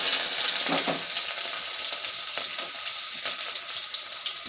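Chopped onions with mustard seeds sizzle and crackle in hot oil for a Tamil-style kuzhambu, with a steady frying hiss, scattered pops and a few stirring scrapes close by, no talking.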